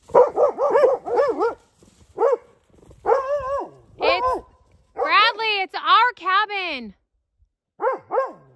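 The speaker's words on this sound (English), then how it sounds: "Silly dogs." Dogs bark close by in repeated bursts of sharp, yelping barks, several clusters separated by short pauses.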